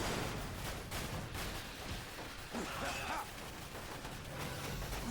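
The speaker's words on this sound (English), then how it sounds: "There's lots of bullets coming at me, though" Dense, distant-sounding gunfire fills a chaotic battle in Dirge of Cerberus: Final Fantasy VII, a continuous crackling barrage of shots and impacts under a steady din without clear individual bursts.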